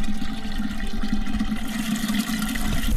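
Water runs steadily from a newly installed tap in a desert village, a continuous close splashing rush with no pauses.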